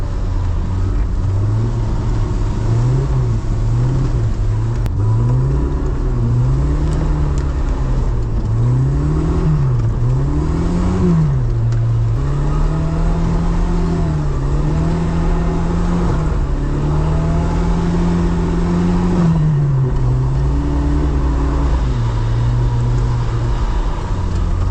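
A new jeep's engine drones and revs up and down while driving into snow drifts on an untraveled track, a loud continuous motor with shifting pitch and no voices.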